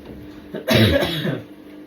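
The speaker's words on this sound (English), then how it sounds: "I'm hoping the worst of this cough will be gone come tomorrow." A single rough, tickly cough bursts out close by, a short harsh throat-clearing hack over a quiet room.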